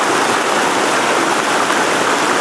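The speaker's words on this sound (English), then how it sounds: "It's a really pretty river." A pretty river rushes and splashes steadily, a loud, continuous broadband wash of flowing water close by with no voices.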